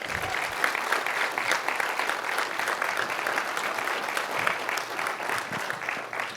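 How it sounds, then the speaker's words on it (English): Applause from an audience at a school service academy night fills the room, dense and continuous at steady loudness, with a few voices mixed in. "Let's give these guys a round of applause"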